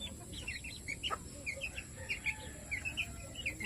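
Chickens and chicks chirp and peep in short bursts over a low rustling background in a chicken coop, with a few scattered calls throughout.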